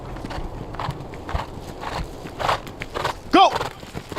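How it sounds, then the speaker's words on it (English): Horse cantering with a rider during a mounted javelin-throwing demonstration, hooves clip-clopping in a loose, uneven rhythm at moderate distance, with outdoor noise and brief voices nearby. "Okay, we're going to do the canter on horseback."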